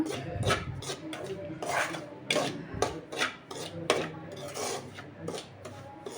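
Semolina stirred and scraped in a pan over a low flame for a sweet sheera, a continuous rhythmic rasping of the spoon against the metal with repeated scrapes close by.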